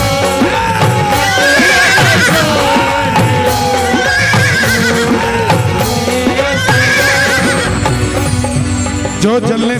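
A horse whinnies repeatedly, several loud rising-and-falling neighs in a row over music-like background, with faint hoof clatter and a short tail-off near the end.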